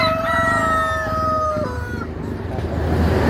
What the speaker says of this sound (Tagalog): kung sino nangangailangan ng Brahma chicken na malalaking manok, ayan o